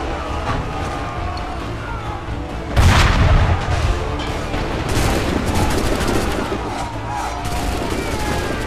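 Cannon fire in Assassin's Creed 3, a loud booming blast near the middle followed by scattered crackling gunfire and battle noise throughout, dense and close.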